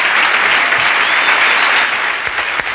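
Studio audience applauding steadily for guests on a French TV talk show, dense and loud clapping sustained throughout with a slight easing near the end.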